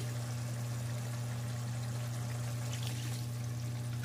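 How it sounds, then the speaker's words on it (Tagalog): A steady scoop of water pours into a cooking pan of fish escabeche, a constant trickling rush over a low mechanical hum. "Tapos maglagay tayo ng tubig."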